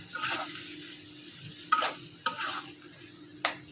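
Water goes into a hot pan of dried-fish (shutki) curry as it is stirred. Quiet, hissing sizzle bursts come with three or four sharp clinks of a utensil against the pan, close by and fairly soft.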